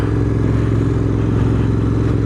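A Royal Enfield Interceptor 650 motorcycle engine runs steadily and loud and close, with a constant low mechanical drone and clatter, as the bike is ridden and slowed under braking.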